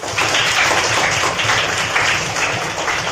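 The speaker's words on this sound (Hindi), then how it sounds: "ताली बजाओ।" Audience applause at a live Kaun Banega Crorepati quiz show event, a steady broadband clapping wash sustained for about three seconds, fairly loud and continuous with no talk over it.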